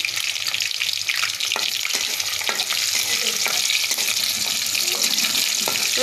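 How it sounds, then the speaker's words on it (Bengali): Chopped garlic sizzles steadily in hot oil for a Bengali khichuri, a dense high crackle with occasional light stirring scrapes and no voices. "রসুনটা একটু লাল লাল হওয়ার অপেক্ষা করছি।"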